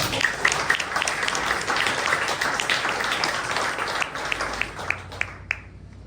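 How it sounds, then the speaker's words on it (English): A pub crowd at a politics talk night gives a speaker a round of applause, a crisp, lively spread of clapping that holds steady and then thins out into a few last claps near the end. "One more time, round of applause for Peter"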